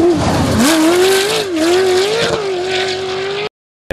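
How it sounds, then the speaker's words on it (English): An off-road racing engine with exhaust collectors screams at high revs, its pitch rising and dipping as it drives hard, loud and close, then cuts off abruptly. "the engine sound that they make is absolutely tremendous"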